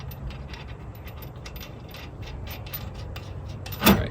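A ratchet snugs nuts on a Dodge D100 rear spring mount with quick, faint, steady clicking throughout, followed by one sharp metallic clank near the end.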